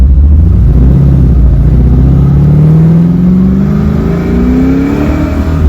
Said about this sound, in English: These LS engines are just so smooth and crisp.